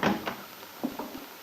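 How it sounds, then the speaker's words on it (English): A small cabin door at a roadside auto court opens after a knock, giving a few soft wooden bumps and a latch click, fairly close and quiet, with no talk. "Bill answers her knock at the door of his little cabin in the Wakefield Auto Court"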